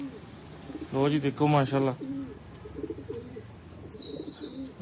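Breeder pigeons in a small loft coo in a short burst of throaty, rolling calls, close and clear, followed by softer cooing while someone speaks briefly.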